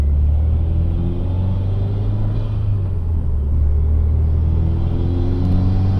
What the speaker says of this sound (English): I don't know if you guys can hear the turbo pulling in all that air.